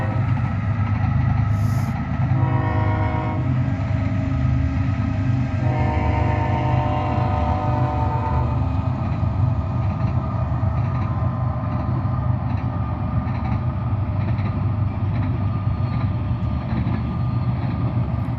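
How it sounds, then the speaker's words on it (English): A train passes through a desert area beside an airport, its rumble steady and loud throughout, with horn blasts sounding twice in the first half. "And we got a train coming."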